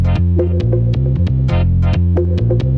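An Ovotech RX-4 egg breaker machine, rated at 26,000 eggs per hour, runs close by with a steady mechanical hum and a repeating throbbing cycle. Sharp clicks and taps land at a regular rhythm over the drone, and no one speaks.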